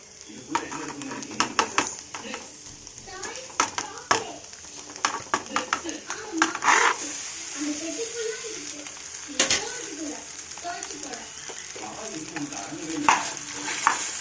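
Pasta being stirred and mixed in a frying pan, with steady sizzling and repeated scraping and clinking strokes from a utensil, close and fairly loud, with a voice talking over parts of it.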